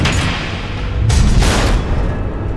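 Missiles explode in the Batman: The Enemy Within video game, a loud, sustained rumbling roar with a heavier burst of booming swelling in the middle, dense and close.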